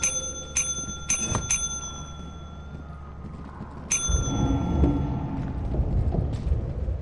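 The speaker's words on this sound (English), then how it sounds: "Well, hey, go ring the bell one more time." Bell in the Lethal Company video game rung in quick bright dings: two single strikes, a rapid double, another, then one more after a pause, followed by a rumbling, shuffling noise.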